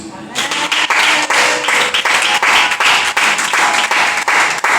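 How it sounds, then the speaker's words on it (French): A church congregation applauds and cheers in a loud, continuous burst of clapping, with raised voices mixed into the crowd noise from start to finish. "Acclame Jésus"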